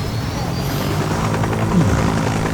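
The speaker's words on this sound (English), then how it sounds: "Can we carry a helicopter with a helicopter?" A helicopter in the video game Just Cause 3 drones steadily and loudly throughout, its rotor hum continuous with no pauses.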